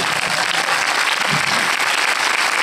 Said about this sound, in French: Je pense que ça mérite encore plus d'applaudissements.